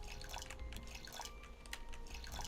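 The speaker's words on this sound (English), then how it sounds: "And then I can get water. And I can water these." Plants are watered in a farming video game, heard as quiet, scattered drips and splashes over a faint steady hum.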